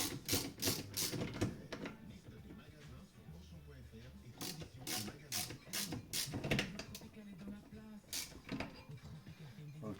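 A ratchet runs down the cylinder head nuts on a Peugeot 309 GTI engine during reassembly, giving close, rapid clicking bursts in irregular runs with brief pauses between strokes.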